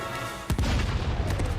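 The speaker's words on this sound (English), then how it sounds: "Explosion on deck!" A sudden explosion bursts on a starship's deck in the animated series Star Wars: The Bad Batch, a sharp boom at about half a second followed by rumbling, crackling debris over a steady background hum.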